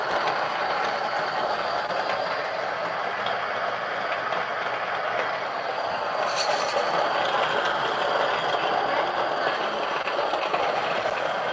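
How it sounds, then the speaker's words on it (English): A Niche coffee grinder grinds coffee beans at setting 14, giving a steady, dense whirring rumble that holds at an even loudness throughout, close and continuous with no pauses. "So I'm gonna go ahead and grind this."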